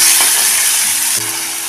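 Finely chopped tomato sautéing with curry leaves in a hot pan, a loud, dense sizzle close by and a brief stir clink, no voices.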